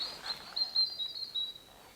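Birds sing in a wood, thin high chirps and a faint twittering thread heard quietly at a distance over a hushed background.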